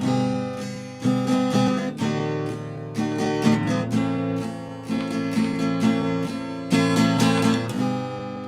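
Acoustic guitar strummed in a steady rhythm, with stronger accented strums at the end of each chorus line, every second or so; loud, close, no voice.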